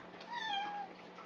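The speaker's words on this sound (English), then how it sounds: "Has to have her meow going." A female cat gives a single drawn-out meow at close range, clear and fairly loud, rising and then falling, against a quiet room.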